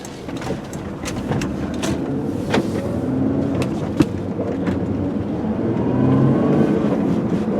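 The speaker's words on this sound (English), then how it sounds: "GLI 6-speed V6 Jetta out on a quick test drive here" A 2004 Volkswagen Jetta GLI with a V6 and six-speed manual on the road, its engine droning steadily under continuous road and cabin noise. The engine pulls louder toward the end, with no one talking.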